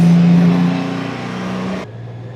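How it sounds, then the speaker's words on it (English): A motorcycle rides through bumper-to-bumper traffic heading into New York City. Steady loud engine drone and road noise fill the clip, with a low hum that drops off abruptly near the end. "Join me in the middle of action-packed, bumper-to-bumper traffic heading into New York City."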